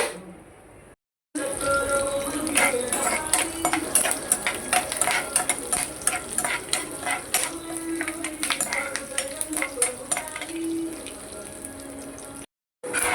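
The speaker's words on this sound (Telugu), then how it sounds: "పచ్చడి ఇలా మూకుడు పెట్టుకొని ఆయిల్ పోసుకొని మనం పోపు వేసేసుకుందామండి." Spices tempering in hot oil in a pan (a Telugu popu/tadka) for a coconut mango pickle, giving a steady crackling sizzle with some stirring and utensil clinks, briefly cut to silence at the start and end.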